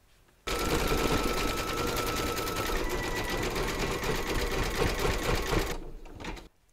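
A vintage sewing machine runs a close satin stitch, starting abruptly with a loud, steady, fast mechanical whir and rattle that holds for about five seconds, then slows and stops, with no voices.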